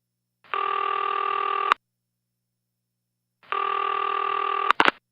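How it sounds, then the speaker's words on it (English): Telephone ringing on a call to a police department: two long buzzing rings separated by silence, then clicks as the line picks up. "Ringing the police department."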